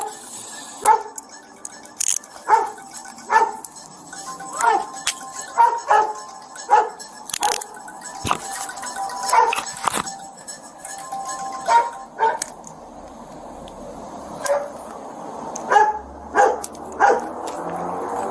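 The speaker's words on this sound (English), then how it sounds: "there's a canine in my car" A police dog barks repeatedly from inside a patrol car, sharp loud barks in uneven bursts throughout, with occasional clinks and faint voices in the background.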